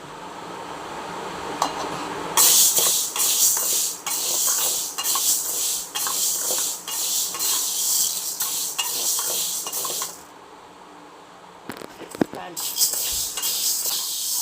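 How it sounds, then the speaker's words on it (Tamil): Green gram being dry-roasted in a kadai gives off a steady hiss, with scraping stirs and clinks of a spoon against the pan. The noise pauses briefly and then resumes. "இப்போ கடாயில் நம்ம இந்த பச்சை பயிரை போட்டு நல்லா வறுத்துக்கணும்"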